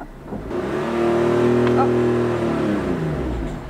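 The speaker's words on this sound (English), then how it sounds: "Start the car." A manual-transmission car's engine starts and revs, a loud, close, rising drone held for a few seconds, with people talking inside the car over it.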